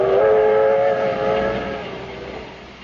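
The 20th Century Limited overnight train from Chicago to New York rolls along with a sustained whistle-like tone over steady track rumble, loud at first and slowly fading.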